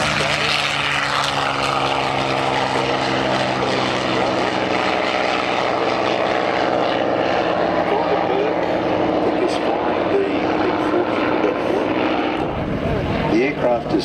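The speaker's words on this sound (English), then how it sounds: "The aircraft is powered by a 600 horsepower Pratt & Whitney radial." CAC Boomerang military aircraft with a 600 horsepower Pratt & Whitney radial engine flying at an air force centenary display at Point Cook, a loud sustained propeller drone that holds steady and rumbles, with a voice talking over it.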